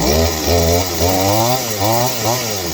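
A Stihl MS 200 chainsaw runs close up before it has warmed up, its engine droning loudly and bogging down in uneven surges that rise and fall in pitch.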